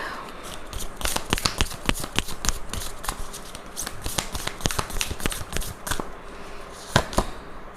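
A deck of tarot cards is shuffled by hand, producing a rapid, crisp run of flicking and snapping card sounds close by, with a few sharper slaps as cards are drawn.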